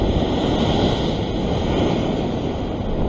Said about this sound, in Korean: 겁나게 치는구만 또 파도